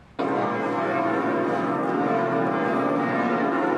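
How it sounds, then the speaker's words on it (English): Newly restored bells of Notre Dame cathedral in Paris, ringing again after the 2019 fire, peal together in a loud, dense, sustained wash of overlapping tones that rings on continuously. "the bells of Notre Dame ring again in the Paris sky"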